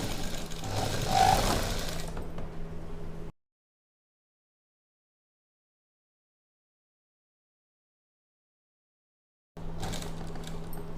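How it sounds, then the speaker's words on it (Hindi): A sewing machine stitching a blouse runs in a close mechanical burst at the start, falls fully silent for several seconds, then whirs again briefly at the end. "यहाँ पे भी सिलाई पक्की कर देंगे लास्ट में बाजू के मुंह पे"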